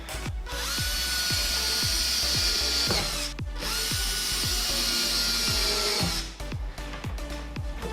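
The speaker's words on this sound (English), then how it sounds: "Screw these screws in the whole way." Power drill-driver sinking screws into wood, two long steady whirring runs with repeated ratcheting clicks as the bit seats, loud and close, with a brief pause between and a rougher, lower finish at the end.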